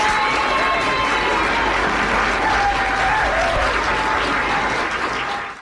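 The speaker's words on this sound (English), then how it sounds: "I won't sing, but we all applaud her" Applause in a radio studio for Annie Ellis's birthday: a loud, dense burst of clapping with some cheering, holding steady for about five seconds before cutting off abruptly.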